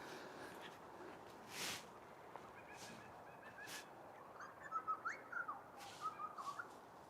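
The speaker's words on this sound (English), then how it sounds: "One thing we're blessed with in this country is incredibly beautiful birdsong." Birds call outdoors along a long road near Wentworth Falls, their whistles and honk-like notes coming in scattered bursts that grow busier toward the end over a quiet, steady background.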